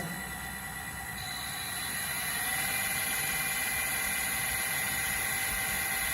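A three-phase induction motor runs at 50 Hz, around 2960 RPM, in a teaching module, giving a steady, even hum with a constant high whine and a slight swell in loudness partway through. No one speaks.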